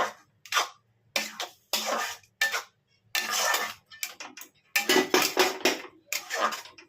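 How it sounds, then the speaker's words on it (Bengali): A spatula scrapes and taps against a pan while chili powder is stirred into a mash of pointed gourd, coming in short, close, intermittent bursts with brief pauses between strokes. "দেখো একটু নাড়াচাড়া করে দিচ্ছি।"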